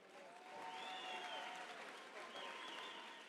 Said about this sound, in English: a round of applause for both boxers